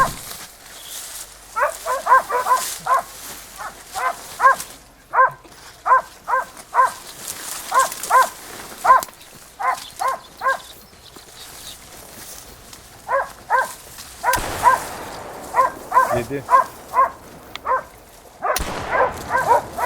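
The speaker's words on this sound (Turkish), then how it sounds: "Köpekler güzel çıkardı arkadaşlar domuzu." Hunting dogs bark in a wild boar hunt in theHunter Call of the Wild, sounding as repeated bursts of sharp yelps in quick clusters, fairly close, with a brief word spoken once.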